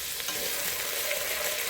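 Cow tripes, trimmed of their fat, fry in oil with onions and garlic while being stirred: a steady, close, dense sizzle with soft scraping from the stirring.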